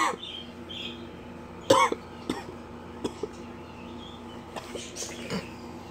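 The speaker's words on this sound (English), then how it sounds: "Fucking cough, man." A man gives one sharp, close cough, followed by a few softer throaty sounds and small noises in a quiet room.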